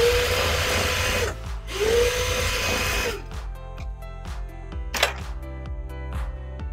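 A sewing machine runs a second row of topstitching on a tote bag. Its motor whirs steadily and its needle ticks in a fast, even rhythm, heard close and alone.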